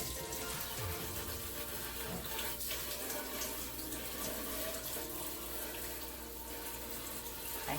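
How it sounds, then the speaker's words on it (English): A kitchen tap runs steadily while a food-crusted grate is rinsed, producing a continuous close splashing rush of water. "Rinse this off."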